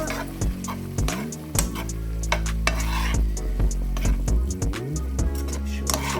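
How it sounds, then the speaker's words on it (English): Shrimp simmering in a sweet and sour sauce for fried rice, stirred around the pot with a utensil, giving repeated scraping strokes and light knocks over a low, steady bubbling sizzle. "We're just gonna let this simmer for 5 minutes, guys, in the sauce."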